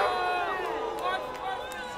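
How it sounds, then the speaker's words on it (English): A home crowd roars and cheers steadily at a high school football game between Oak Ridge and Monterey Trail, a dense, fairly loud wash of voices with commentators talking over it. "that's why the reaction from the host crowd here"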